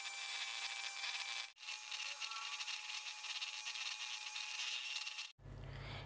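An electric hand beater whips cream for homemade butterscotch ice cream, giving a loud, steady whirring drone that cuts out briefly twice and then stops near the end.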